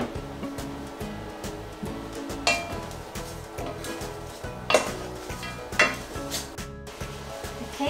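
Reindeer meat stew simmers in a heavy cast iron pot with a rhythmic low bubbling pulse. Sharper clinks and scrapes from a utensil against the pot break in now and then.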